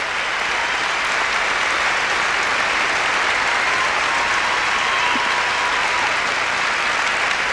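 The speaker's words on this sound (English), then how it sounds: "18-year-old Oksana Baiul enjoying the applause in the house here in Albany" Steady, dense applause from a large arena audience at a 1995 Skates of Gold figure skating exhibition in Albany, greeting skater Oksana Baiul; loud, continuous and even throughout with no voices over it.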